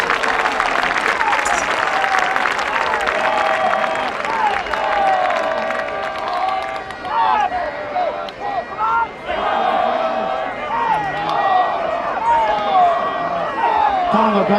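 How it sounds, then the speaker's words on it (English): An outdoor crowd at the Braemar Gathering Highland games claps and cheers steadily for dancers, with scattered shouts and a loud announcer-style voice over the noise. "Keep up the applause for them."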